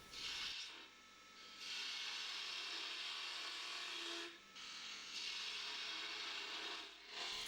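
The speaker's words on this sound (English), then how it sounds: "create the bottom sweep with the spindle gouge" Spindle gouge cutting wood on a turning lathe, a close, steady rasping hiss in three sustained passes separated by brief pauses, with the low hum of the lathe running underneath.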